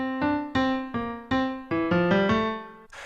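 A short Bach excerpt from the Well-Tempered Clavier in 3/8 meter plays as clear, separate keyboard notes in a steady rhythmic pattern, with nobody talking over it.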